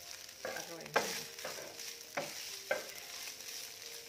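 Kimchi fried rice stir-fried in a pan: a quiet, steady sizzle with four or five scraping strokes of a utensil pushing the rice around, no talking.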